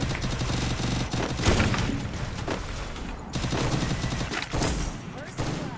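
Dense, continuous gunfire in the mobile battle royale game Free Fire, loud rapid shots and bursts throughout with brief dips.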